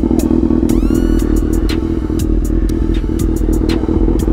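A 2022 Kawasaki ZX6R motorcycle warming up at idle: a steady, close engine drone with a throbbing low rumble and scattered ticking clatter, running alone the whole time.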